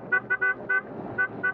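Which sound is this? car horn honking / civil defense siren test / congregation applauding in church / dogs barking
car horn honking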